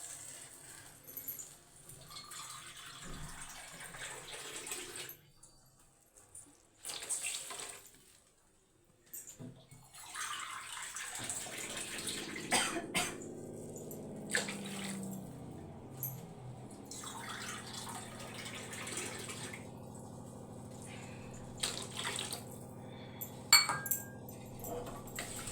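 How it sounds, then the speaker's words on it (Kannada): Water is poured from a glass into a cooking pot for North Karnataka-style uppittu made with semolina. A steady, splashing pour runs through the second half, preceded by scattered clinks and handling noises. "ಈ ಬಟ್ಲೆ 4 ಗ್ಲಾಸ್ ಬಟ್ಲ ನೀರು ಹಾಕ್ತಾಯಿದ್ದೀನಿ"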